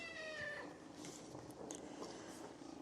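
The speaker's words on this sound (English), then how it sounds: "so Tasha is feeding the kittens this morning." Kittens meow with a few high, wavering calls near the start, then fainter mews over steady indoor background noise for a few seconds.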